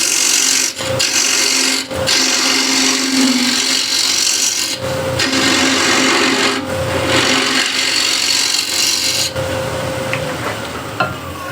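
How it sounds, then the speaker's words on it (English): Shear scraper cutting wood on a lathe: a steady, close rasping scrape over the turning workpiece, broken by brief pauses around 1, 2, 5, 6.5 and 9 seconds as the tool lifts and re-engages. "I'll use a shear scraper to get this."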